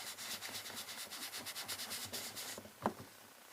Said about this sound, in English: you want to rub really, really hard, because that actually smooths out